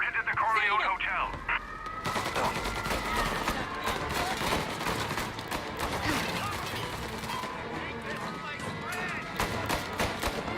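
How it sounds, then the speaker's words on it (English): Rapid bursts of gunfire in the Mafia Definitive Edition video game, with dense crackling shots and a heavy blast-like roar continuing for several seconds under voices. "Gunfire and an explosion reported at the Corleone Hotel."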